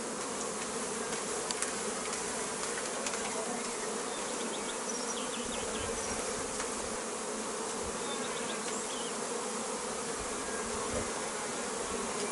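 Honeybees buzz at an open beehive during varroa treatment work, forming a dense, continuous drone of many insects that stays close and loud throughout with no talk.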